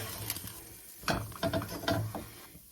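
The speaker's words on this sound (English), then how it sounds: "I like to stir it a little bit" Flour frying in hamburger grease is stirred in a pan: a few close scraping and clicking strokes of the utensil, fairly quiet, over a faint background hiss.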